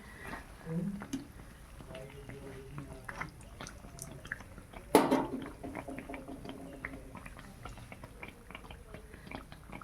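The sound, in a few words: banana blossom chops frying in oil in a wok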